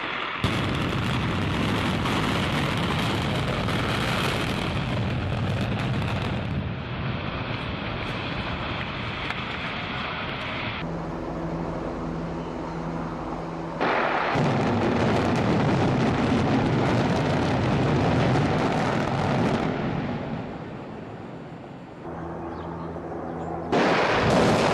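A bridge being brought down by demolition charges, heard as a sustained loud roar of blast and rumble with shifting bursts and a rushing, wind-like wash throughout, no voices present.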